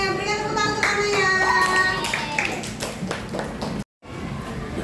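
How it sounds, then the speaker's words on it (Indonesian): Schoolchildren in an Indonesian classroom clap for a classmate, a short burst of hand claps mixed with children's voices and ringing tones, then cutting out briefly before quiet room noise resumes. "Berikan tepuk tangan untuk Kanaya"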